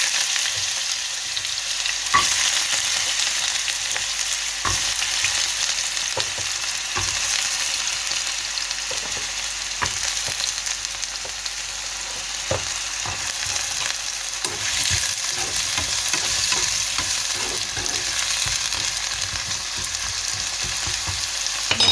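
Pieces of elephant foot yam sautéing in a small amount of hot oil, a loud continuous sizzle and hiss with occasional soft stirring knocks, close and steady throughout, no voices.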